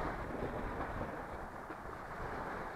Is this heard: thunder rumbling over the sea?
yes